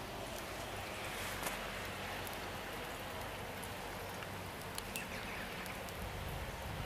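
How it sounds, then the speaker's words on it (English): Steady rain falling outdoors after days of downpour, a dense, even hiss of drops with occasional sharper patters on nearby surfaces, continuous and fairly close, with no voices. "It's been raining for days."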